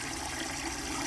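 An air pump bubbles compost tea brewing in a bucket, giving a steady, dense wash of fizzing and gurgling that stays even and fairly quiet throughout.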